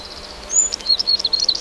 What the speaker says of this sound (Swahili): Msitu wa Vikindu ni makazi ya zaidi ya aina 65 za ndege wanaopatikana katika mazingira tofauti ya msitu. Sauti zao hujaza anga la msitu